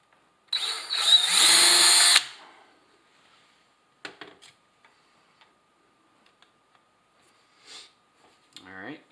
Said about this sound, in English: now that I have the hole drilled